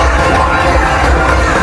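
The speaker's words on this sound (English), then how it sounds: "the crowd finally have something to cheer about" Cricket crowd roaring and cheering after a boundary, a loud, continuous wash of many voices filling the whole stretch without a break.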